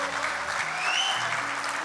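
A church congregation claps together in a sustained burst of applause, steady and fairly close throughout, with a faint voice or tone in the background.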